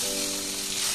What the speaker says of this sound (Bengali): একটা শুকনো লঙ্কা দিচ্ছি, তেজপাতা, একটু জিরা দিলাম।